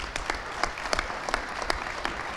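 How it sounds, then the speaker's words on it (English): Applause rings out at a town inauguration ceremony honoring an outgoing councilman, a moderate crowd clapping steadily in an indoor hall with sharper individual claps standing out. "A round of applause"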